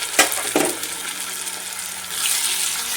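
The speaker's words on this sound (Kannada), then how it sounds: "ಇದನ್ನು ಚೆನ್ನಾಗಿ ಫ್ರೈ ಮಾಡಬೇಕು ಸ್ನೇಹಿತರೆ." Garlic ginger paste hits a hot pan for a chicken liver masala, a couple of sharp spatters up front giving way to a steady soft sizzle that swells slightly near the end.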